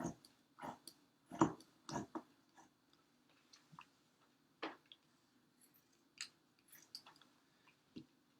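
Scissors snip through both layers of fabric mask material strips at once, giving a series of crisp, close cuts in irregular rhythm with short pauses between them.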